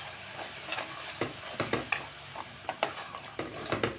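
A ground onion, tomato and coconut masala sautéing in a pan for Tamil mutton kulambu sputters with a low sizzle, broken by repeated scraping strokes and light stirring taps, close by and moderately quiet.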